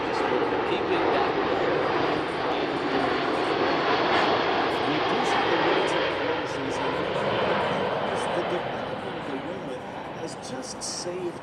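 A USAF C-17 military jet roars overhead during a demo at an air show. The engine noise is a loud, sustained broadband rumble that slowly fades toward the end, and people talk beneath it.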